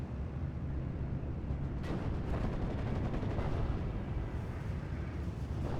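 Pack howitzer artillery fires in a World War II strategy game battle replay, a dense, continuous roar of distant booms and crackling gunfire with a few sharper blasts standing out.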